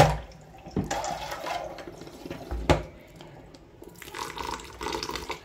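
Water running and splashing in a kitchen during washing while preparing monda mithai sweets, with soft intermittent splashes and a couple of sharper knocks, fairly faint and close.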